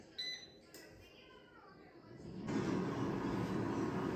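A Cosori air fryer cooking chicken starts up after a quiet moment with a faint click. Its fan then rises into a steady, close whooshing hum that fills the last part.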